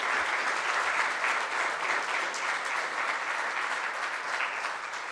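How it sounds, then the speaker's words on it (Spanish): A congregation in a church sermon gives sustained, even applause, a steady wash of many hands clapping at moderate volume without a break. "Le dan una ofrenda de palmas a nuestro Dios"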